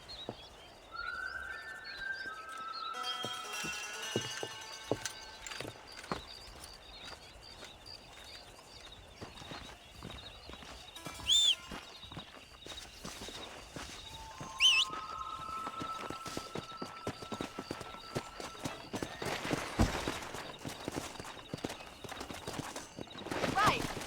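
Horse hooves clip-clop steadily while cattle are herded to pasture in the Red Dead Redemption video game, with game music, scattered effects and a voice running over the rhythmic hoofbeats.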